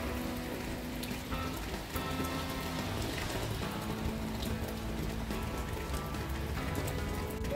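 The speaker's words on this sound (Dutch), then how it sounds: "Kijk, het regent." Steady, dense rain patters on a hard surface, a continuous close hiss of drops with no voices.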